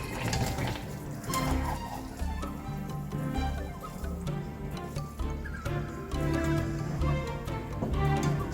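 Ground beef sizzles in a pan while being stirred and chopped into small pieces, with soft frying crackle and intermittent scraping clicks of a utensil against the pan.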